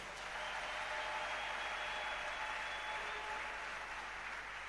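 A church congregation applauds during a French-language sermon, a dense, even wash of clapping that continues unbroken at a moderate distance.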